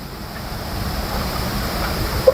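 Steady outdoor wind rushing and buffeting the microphone, a broad continuous roar with no voices.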